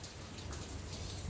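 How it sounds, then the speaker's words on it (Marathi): Heavy rain pours steadily outdoors by a home, a dense continuous hiss of drops striking surfaces with no pauses and no voices. "खरंच खूप जास्त पाऊस आला"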